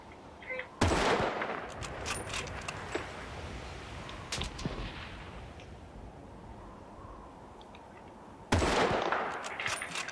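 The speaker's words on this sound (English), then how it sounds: "I hear the sniper bullets whizzing past my head right now" Battlefield Bad Company 2 gunfire cracks out in a few sharp reports amid a constant battle rumble, with sniper rounds passing close by.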